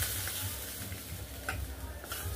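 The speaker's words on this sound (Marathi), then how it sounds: "थोडंसं हिंग घालायचं, फोडणी आपण बटाट्यावरती घालून" Hot tempering with asafoetida poured over potatoes in a Maharashtrian kitchen, giving a faint, steady sizzle with a few soft clicks and stirring scrapes, no talk.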